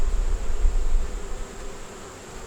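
Honeybees hum in a steady, close drone around a hive frame held up during inspection, the buzz fairly loud and continuous, fading a little toward the end.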